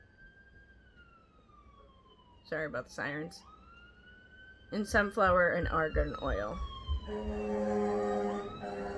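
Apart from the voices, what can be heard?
fire truck siren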